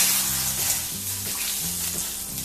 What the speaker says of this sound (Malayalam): ഇനി കടുക് പൊട്ടി ഇതിനകത്തോട്ട് അങ്ങ് ഒഴിച്ച് തളിച്ചാൽ മതി.